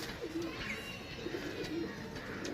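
Pigeons for sale in Jhelum, Pakistan, cooing softly in low repeated murmurs under a steady background hiss, with no talking.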